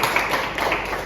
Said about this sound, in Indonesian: Oke, tepuk tangan buat Seven.